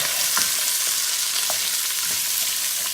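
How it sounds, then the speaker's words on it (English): Food sizzles and crackles in hot oil in a pan, with light stirring and tossing sounds over a dense, close, steady fry. "Add some oil, make sure it cooks right. Give it a toss."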